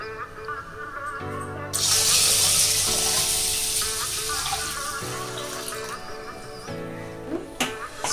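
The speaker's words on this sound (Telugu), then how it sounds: "1 గ్లాసు బియ్యానికి 5 గ్లాసులు నీళ్లు పోసుకుందాం." Water pours steadily into a cooking pot with a broad rushing hiss for several seconds as the pot is filled for ragi sangati made with old rice, while background music plays throughout.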